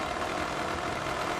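A chainsaw engine at a STIHL Timbersports race, idling and revved before the start. It gives a steady, loud, buzzing drone with no voices.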